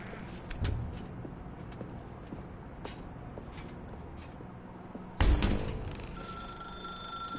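A telephone rings in the video game The Stanley Parable: a sharp bell-like ring starts suddenly near the end and holds steady tones, after quiet ambience with faint clicks and one soft thump.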